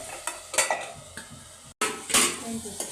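In a village kitchen, metal clinks and clanks of a lid and utensils sound on a pot where tomato rice with green chillies and chilli powder is frying, over a faint sizzle, briefly cut to silence midway.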